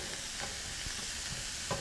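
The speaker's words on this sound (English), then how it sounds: "we can hear the sizzling and the cooking going on here with our jambalaya starting up" Jambalaya sizzles and fries steadily in a pan, a continuous close crackle with a few soft stirring scrapes, no talking.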